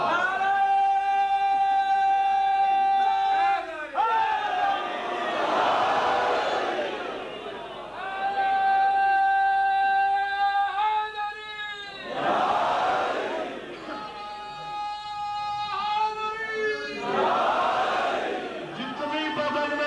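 A crowd at an Islamic sermon shouts religious slogans in three loud bursts, each answering a preacher's drawn-out, sung call.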